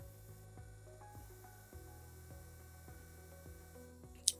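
A 2.2 mm cast drill from a SmartGuide implant kit bores through a dental cast, giving a steady close mechanical whir with regular ratchet-like ticking and one sharp click near the end.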